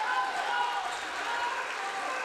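A basketball crowd with the Morgan student section in the stands cheering near the end of a quarter, a loud sustained roar and clamor throughout, with a commentator talking over it.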